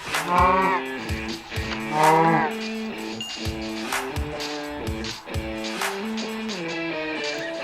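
A Minecraft cow moos again and again in a hardcore survival game, loud, close and drawn-out, with the calls coming in a quick string of low bellows.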